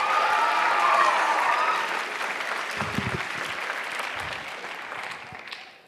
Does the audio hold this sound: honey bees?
no